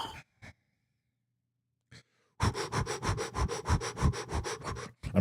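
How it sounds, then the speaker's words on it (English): Deep, slow breaths drawn in and let out close to the microphone, a few brief sniffs and pauses first, then a long run of rhythmic rasping inhales and exhales. "I'm breathing."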